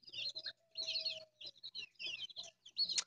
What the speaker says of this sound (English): And there's the duckies and chickies.